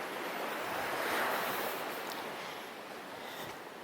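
Surf and wind on a public beach at Grand Turk, a steady wash of breaking waves swelling and easing, with wind buffeting the microphone and no voices.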